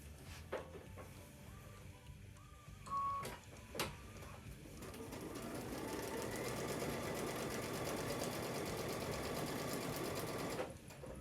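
Sewing machine stitching a quilt panel along a marked line: after a few faint knocks and handling thumps, the motor whirs up into a steady, continuous stitching hum that runs for several seconds close to the microphone, with no talking.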